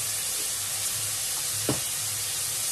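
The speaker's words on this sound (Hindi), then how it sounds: "और इसको 2 से 4 मिनट के लिए ऐसे भूनते हैं।" Chowmein noodles stir-fry in a hot pan with a soft, continuous sizzle and a brief scrape of stirring, quiet and close.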